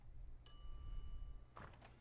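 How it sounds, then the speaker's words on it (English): A shop counter bell in the Monkey Island game rings once with a bright metallic ding that lingers, followed by a softer, duller clunk, all alone against quiet background hiss. "some idiot's already ringing that stupid bell"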